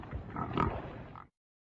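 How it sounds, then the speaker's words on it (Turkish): Pig oinking from an animal sound puzzle game, a short burst of snorting grunts lasting about a second before cutting off to silence. "Domuz."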